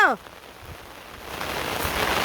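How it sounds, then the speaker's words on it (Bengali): Heavy rain pours down on an outdoor rural yard, a dense steady hiss that grows louder and fuller toward the end after a brief sound at the start. "বড় বৃষ্টি নামছে খুব খুব"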